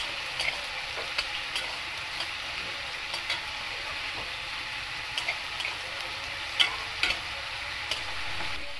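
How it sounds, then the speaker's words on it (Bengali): Lentil dumplings (dal bori), a few at a time, frying in hot oil to be added to a fish curry: a steady close sizzle with occasional small pops and ticks, alone without voices. "মাছের ঝোলে দেওয়ার জন্য ডাল বড়ি ভাজা, কয়েকটা, বেশি না।"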